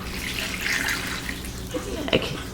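Plain tap water pours steadily into a crock filled with vegetable scraps for homemade stock, a continuous close splashing wash with a brief brighter splash near the end.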